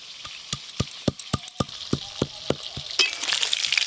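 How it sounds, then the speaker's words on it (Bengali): Pieces of a large sonabogo fish fry in oil, a continuous hiss punctuated by a quick, regular series of sharp clicks and taps, the sizzle swelling louder toward the end. "মাছগুলো কিন্তু বেশ ভালো করে ভাজা হয়ে গেছে,"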